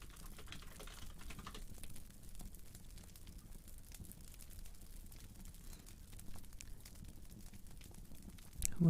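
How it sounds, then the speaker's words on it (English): Soft, quick typing on a computer keyboard fills a quiet room, a continuous patter of light key clicks that stays at an even, close, low level throughout. "just typing that"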